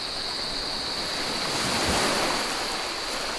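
Calm, gentle sea waves wash onto the beach at Nagsasa Cove in Zambales, a steady soft surf hiss with a slight swell near the middle, mixed with light wind noise on the microphone and no voices.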